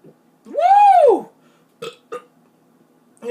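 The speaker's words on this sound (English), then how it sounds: "This is a burping ASMR video." A man lets out one long, loud, close burp after drinking soda, followed by a couple of brief small sounds.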